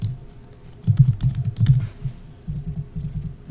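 Typing on a computer keyboard in quick, uneven bursts of close key clicks with a short pause between bursts, and no voice.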